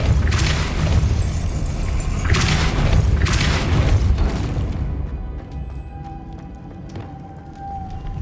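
A Depulso spell in Hogwarts Legacy lands as a deep, loud boom with rumbling bursts over the first few seconds, then settles into quieter ambient game sound.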